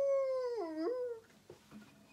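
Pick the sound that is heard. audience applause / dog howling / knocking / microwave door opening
dog howling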